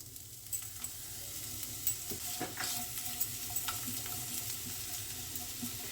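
Chopped onion sizzles in hot white cooking oil in a pan for a brinjal stir fry, a steady crackling hiss with occasional stirring clinks, close and moderately quiet, no talking.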